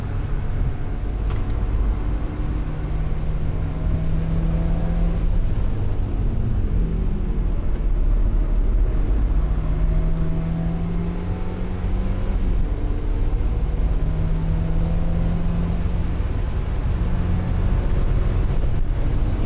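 Mazda MX-5 engine droning steadily as it laps the Nürburgring, the pitch rising and falling through gear changes over constant road and wind roar, loud and close from inside the car.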